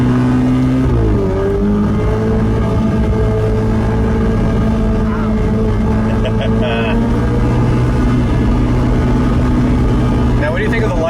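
A 2020 Ferrari F8 Tributo Spider engine hums loudly from inside the cabin, its tone climbing and dropping through revs and a gear change, with people talking over the sound.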